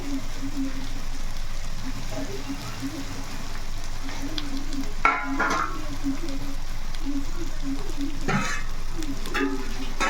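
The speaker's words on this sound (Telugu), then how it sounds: "చేపలు కూడా వేసేసుకొని" Dried fish frying in a clay pot, a steady soft sizzle throughout with a few brief louder scraping or stirring bursts.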